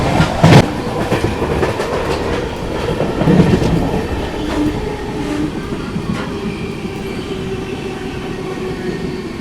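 The 18510 SMVT Bengaluru–Visakhapatnam Weekly Express runs through Tadepalligudem station without stopping, giving a loud, steady rumble with rhythmic clickety-clack of wheels over rail joints and a few sharper metallic knocks, heard up close.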